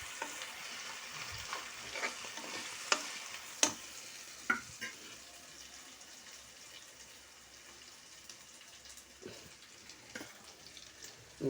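Ginger garlic paste frying in a pan for chicken dum biryani, a faint continuous sizzle broken by occasional sharp scrapes and taps of a stirring spoon, quieter in the second half.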